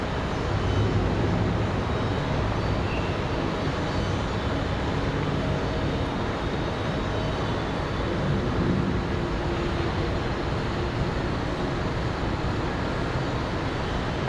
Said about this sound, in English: The other CRJ touching down with no fuss.